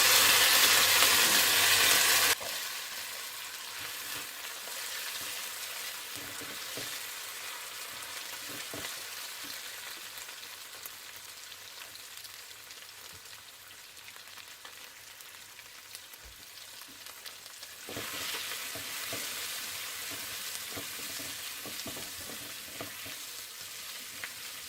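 Vegetables with garlic frying for chicken Manchurian: a loud burst of sizzling as they hit the hot pan, settling into a steady crackling fry with occasional stirring scrapes, then swelling louder again near the end.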